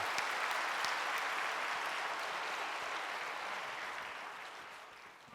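Congregation applause at a Korean church service honoring a retiring senior pastor, a dense, sustained wash of many hands clapping in a large room, steady and then slowly fading toward the end.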